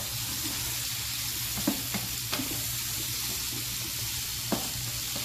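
Onions and apples cooking in a pan, a constant close sizzle with a few faint taps and clicks from a utensil, no talking.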